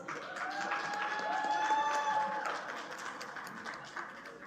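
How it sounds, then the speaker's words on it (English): Audience at a university convocation claps together in a sustained round of applause, steady and moderately loud, with a voice speaking over the start. "Give them a big round of applause"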